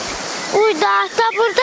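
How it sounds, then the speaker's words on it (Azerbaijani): A mountain river, muddied after rain upstream, rushes in a steady broadband wash that stays under a voice speaking loudly close by for most of the moment. "Normalda bu çay dağdan gəlir."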